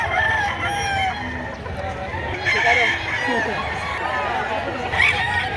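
A year-old bull stag rooster of Melsim Black bloodline crows repeatedly at a poultry sale in Batangas, with people chatting nearby and other birds clucking in the background.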